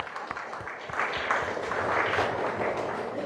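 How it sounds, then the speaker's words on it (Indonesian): A church congregation clapping together during a worship service, a dense, steady wash of applause that swells after the first second and holds loud and even throughout. "mari kita tepuk tangan untuk Tuhan."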